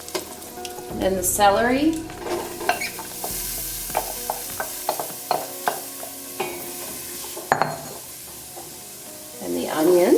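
Chopped celery and onions sauté in a hot pan for sunchoke soup, giving a soft sizzle with repeated scraping stirs close by, while a person speaks over it.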